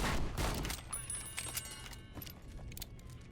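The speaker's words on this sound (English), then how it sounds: "The kid just opened fire." Gunfire erupts in Fallout New Vegas, a dense burst of loud shots at the start that quickly thins into quieter scattered cracks and clinks, with game ambience underneath.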